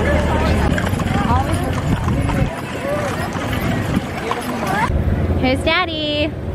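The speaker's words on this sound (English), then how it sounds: "Yeah, more horses!" Horses clip-clop past in a small-town parade, their hoofbeats mixed with crowd noise and nearby voices, while a child squeals excitedly toward the end.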